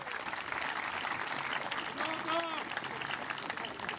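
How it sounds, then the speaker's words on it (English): Graduates at a high school commencement applaud their parents, a dense, sustained clapping from a large indoor audience, with brief voices or cheers rising partway through. "it is time to honor your parents with appreciative applause"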